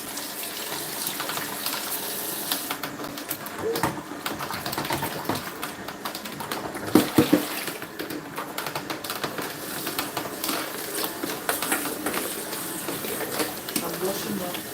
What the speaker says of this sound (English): I'm washing up.